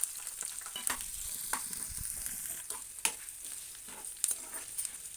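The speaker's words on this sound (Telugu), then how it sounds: "మంచిగా ఫ్రై అయ్యేదాకా కలుపుకోవాలండి" Onion and green chilies frying with cloves, cardamom and cinnamon for a mutton fat curry, with a steady sizzle and repeated sharp scrapes of a spoon stirring the pan, close and alone.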